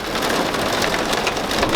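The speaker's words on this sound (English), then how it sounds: "This is the worst downpour I've seen in years, honestly." Heavy rain hammers a converted bus roof during a flash-flood downpour, a dense, loud, continuous drumming of drops with no pauses.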